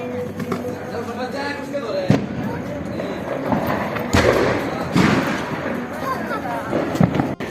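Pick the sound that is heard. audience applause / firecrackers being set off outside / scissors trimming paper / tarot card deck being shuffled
firecrackers being set off outside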